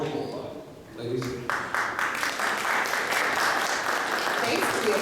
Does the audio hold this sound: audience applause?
yes